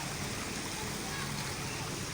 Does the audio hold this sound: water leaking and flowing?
yes